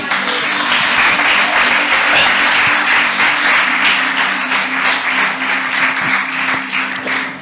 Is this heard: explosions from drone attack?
no